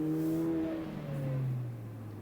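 An Alfa Romeo Giulia Q4 on KW V3 coilovers accelerates on an autocross course, its engine note rising then falling through gear changes over a few seconds, moderately distant, with no voices.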